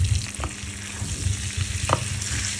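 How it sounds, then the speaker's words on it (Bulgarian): Boiled potatoes are stirred in a pan of hot oil with garlic, rosemary, red and black pepper. A continuous loud sizzle runs throughout, with a few soft scraping stirs, and no voices. "Разбъркваме и добавяме нашите вече сварени картофи."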